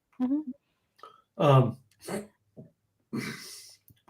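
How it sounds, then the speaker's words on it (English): Several short, abrupt vocal bursts spaced irregularly across a few seconds, close to the microphone with no talking in between, fitting hiccups from someone sipping shots during a podcast. "now I have hiccups on the show"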